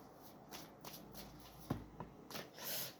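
Tarot cards being handled and drawn one by one, a few quick papery swishes and flicks, close and fairly quiet, with no voice.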